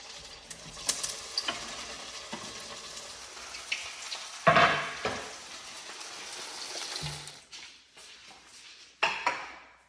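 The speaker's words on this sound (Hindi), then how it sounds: "अब मैं इनको फिर से फ्राई कर लेता हूँ। अब की बार जो मेरा तेल है बिल्कुल हाई गर्म है।" Manchurian balls deep-fry in very hot oil, a steady busy sizzle with crackling pops and occasional clinks of a utensil against the pan, moderately close and without speech.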